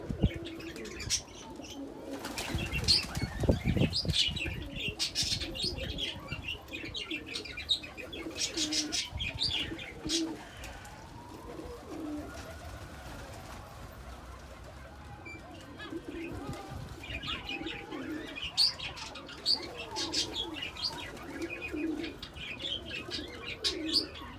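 Pigeons in a loft coo softly and repeatedly while wings flap in several bursts, with scattered chirps throughout; the sounds are fairly close but quiet, with no talking.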